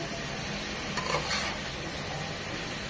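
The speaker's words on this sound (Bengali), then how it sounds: "কয়েকবার নেড়ে নেড়ে ভাজা ভাজা করে নেব" Finely chopped fresh winter vegetables stirred and fried in a pan, a steady close sizzle with a brief scrape of the spoon near the middle.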